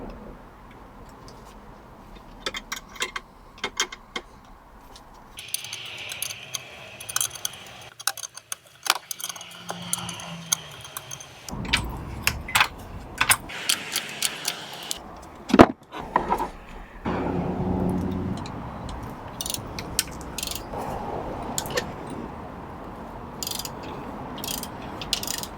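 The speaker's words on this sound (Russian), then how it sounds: "И отпускаем фиксирующую гайку." A locking nut on a car's parking brake being loosened with a ratchet, irregular clicking and metallic ratcheting bursts spread over a long stretch, close and fairly loud against quiet background rustle, with no speech.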